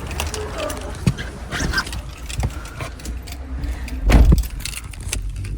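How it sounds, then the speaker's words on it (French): Car keys jangle with light, intermittent metallic clinks over a low rumbling background, including a brief louder handling thump near the end. "Mes clés de voiture sont défoncées."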